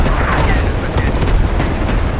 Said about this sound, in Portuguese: Som novo da artilharia.